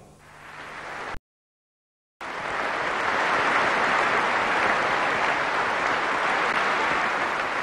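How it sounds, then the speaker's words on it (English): Spontaneous applause from a vast crowd outside a funeral swells into a loud, continuous roar of clapping, interrupted by a moment of dead silence before resuming at full strength. "The applause was spontaneous, unplanned, and, as with so much else today, it was unprecedented."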